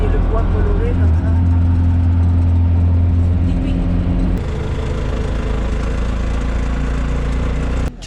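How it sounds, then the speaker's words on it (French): A tuk-tuk style motorcycle taxi, called a motochiva, with colourful wooden bodywork, idles on a town street in Antioquia, Colombia, giving a steady low engine rumble throughout that shifts slightly midway, with faint voices nearby. "Une ville, un tuk-tuk. Ici ça s'appelle des motochiras. En moto."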